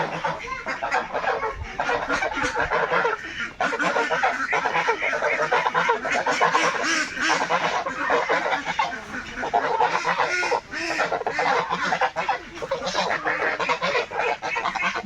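Loud, crowded calling of ducks and geese heading to a river, quacks and honks overlapping nonstop, with a faint voice in the mix.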